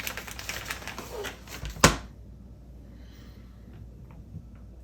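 A knife cuts through a block of cheese on a board for fondue, with a few soft scraping cuts and one sharp chop near the middle, followed by quieter handling.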